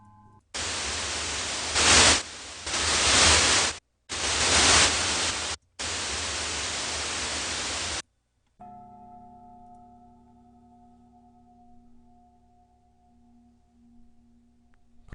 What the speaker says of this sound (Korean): 노이즈 소리가 커졌다 작아졌다 했습니다